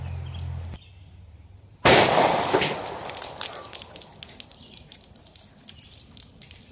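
A 9mm Winchester USA Ready Defense round is fired into water-filled jugs: one sharp, loud gunshot with a splashing burst, then the crackle and dripping of water fading out over several seconds.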